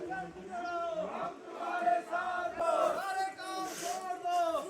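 Massed voices of a big election campaign rally crowd chant in surging, sustained waves, loud and close, filling the whole stretch.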